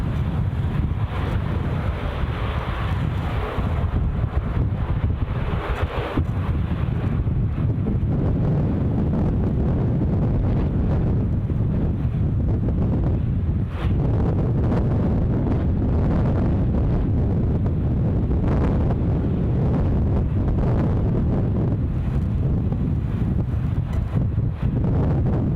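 Strong wind buffets the microphone at Edinburgh Airport, a loud, continuous low rumble that rises and falls in gusts for the full duration, with no speech.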